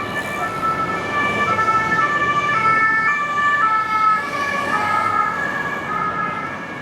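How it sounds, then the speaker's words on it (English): A loud emergency siren wails continuously with shifting tones as the vehicle passes close by on Île de la Cité in Paris, over road traffic noise. "I'm gonna let this siren do its thing."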